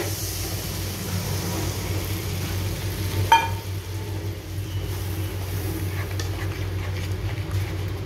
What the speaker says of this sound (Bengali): এবার আমি নারকেলের যে দুধটা রেডি করে রেখেছিলাম সেটা দিয়ে দেব